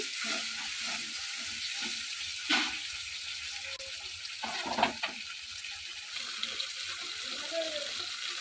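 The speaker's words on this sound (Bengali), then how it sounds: "আর দিয়ে দিলাম ফ্যাটানো টক দই তো বেশ কিছুক্ষণ কষিয়ে নিলাম" Thick sour yogurt sautéing with pointed gourd in a pan for a vegetarian Bengali curry, giving a steady low sizzle with occasional stirring scrapes, close and moderately loud throughout.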